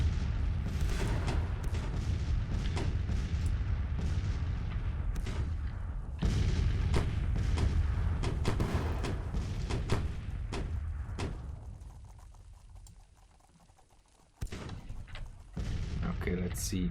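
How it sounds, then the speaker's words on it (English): Cannon fire in Grand Tactician: The Civil War during a large Civil War battle: repeated sharp booms and thuds over a dense, steady rumble, thinning out toward the end. "There's so many cannonballs flying over. Look at that. These guys are firing now."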